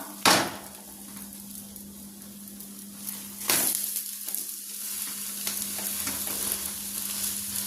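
An egg-dipped bread omelette fries in a pan with a constant close sizzle and a steady background hum. Two sharp clunks of the pan or spatula sound as it is flipped, with no voices.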